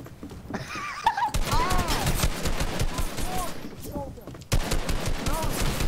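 Rapid gunfire bursts in an online arena shooter game, dense repeated shots with brief pauses, loud and close throughout, mixed with game effects and a voice talking over it.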